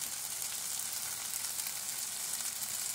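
Elote corn sizzling steadily in a hot pan, a dense, even hiss of frying that holds at the same level throughout, close by with no voices.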